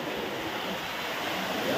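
Sea waves wash on the shore at Puri beach as a steady, broad rushing roar, fairly faint and continuous, with no voices.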